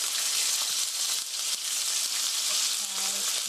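Pork and mushrooms stir-frying in a hot pan give a loud, steady sizzle throughout, with a few faint scrapes and bubbling pops mixed in.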